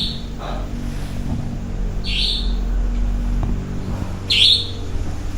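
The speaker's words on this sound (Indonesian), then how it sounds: "Suara burung apa tuh? Burungnya kecil ya." A small bird chirps three times in short, high, bright bursts inside an empty house, standing clearly above a low steady hum, with no talk.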